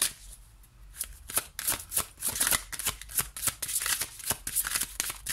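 A deck of tarot cards shuffled and dealt by hand, a steady run of crisp riffling snaps and slaps close up, with no talking.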